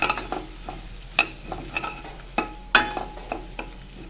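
Curry leaves fry in a spice masala for kadhi pakora, giving a steady, close sizzle broken by repeated scraping stirs of a spoon against the pan, with no talking.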